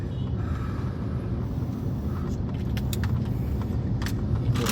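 Steady low rumble of road traffic crawling in a jam in Jakarta, a continuous dense engine drone with faint higher clicks and rattles, no voices.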